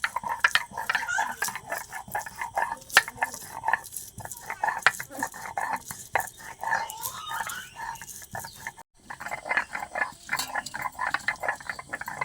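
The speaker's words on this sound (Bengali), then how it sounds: "রসুনটা বেটে নিই।" Garlic being ground into a paste on a stone in a home kitchen: a steady, close scraping and grinding with irregular knocks throughout, one brief pause near the end, then the rough rubbing resumes.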